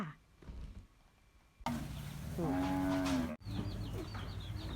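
Cattle in a farm pen in Nakhon Sawan, Thailand, where more than a hundred are released to graze, give several loud, close moos, one long and drawn out, with quieter rustling and shuffling between calls.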